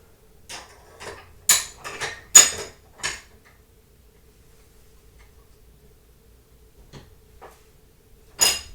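A wrench snugs the lock ring on a reloading powder die, producing a quick cluster of sharp metallic clicks and clacks in a quiet room, then a long pause and one final clack.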